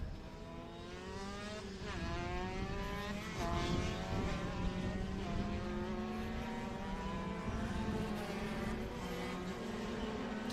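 A 250cc racing kart engine screams past during a kart race, its high-pitched buzzing note rising and shifting as it passes close, with other kart engines droning steadily in the background.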